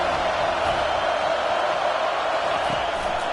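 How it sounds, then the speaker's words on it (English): A football stadium crowd on third down produces a steady, dense roar of many voices that holds loud and even throughout, with no single voice standing out. "Decibels rising as the crowd gets behind this defense on third down."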